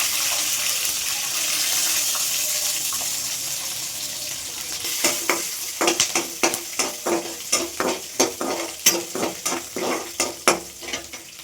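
Garlic and cumin sizzle in hot oil while being stirred, a steady frying hiss giving way to a rapid run of sharp, rhythmic scraping strokes from the spoon against the pan, close and fairly loud.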